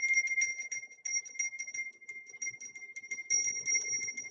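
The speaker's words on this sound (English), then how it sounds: "we're going to ring the bell and clear out some of any of the negative energy" A small brass bell is rung repeatedly to clear negative energy between readings, giving bright, sustained metallic tones in a quick, steady jingling rhythm, fairly quiet and alone.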